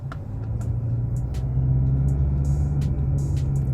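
Engine of a 2015 Mazda CX-5 while driving: a steady low rumble of moderate loudness that swells slightly midway, with occasional faint clicks above it.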